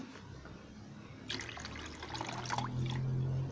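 Water is poured onto gari, the Ghanaian cassava grain, in a bowl, a soft trickle that swells into a fuller splashing pour, close and moderately quiet, with no talking.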